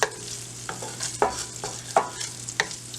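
Oil and sausage sizzle steadily in a pan with a low hum beneath, broken by several scraping stirs at regular intervals, close and moderately loud.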